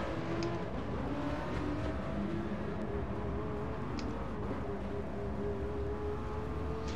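Race car engine from the Gran Turismo Sport racing game, a steady continuous drone heard from inside the cabin at moderate level, with no talking over it.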